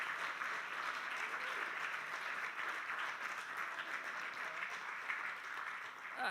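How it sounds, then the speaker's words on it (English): Steady audience applause fills the room at an Ignite Liverpool live event at LEAF, a dense, even wash of many hands clapping that holds for the full six seconds without letting up. "A round of applause for all of our speakers,"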